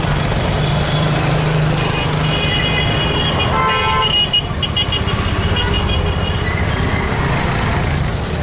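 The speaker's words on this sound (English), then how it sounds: "The scooter man who won't stop honking." Scooter horn honking repeatedly amid busy Delhi traffic, short toots over a constant engine and road din heard from a moving electric rickshaw.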